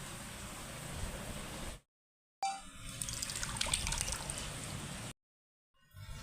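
Water squeezed by hand from soaked rasmalai cheese balls and poured off, a steady close trickle and splash broken by two short silent gaps.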